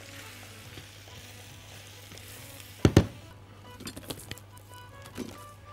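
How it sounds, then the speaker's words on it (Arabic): Kofta browning in a pan with onion and garlic gives a low, steady sizzle under a faint hum, broken by a couple of sharp utensil clatters near the middle and a few softer knocks afterward. "الكفته بتاعتي بتتحمر اهي مع البصل مع الثوم"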